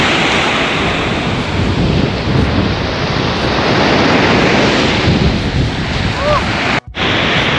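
Steady roar of surf washing in, with wind buffeting the microphone and a brief dropout near the end.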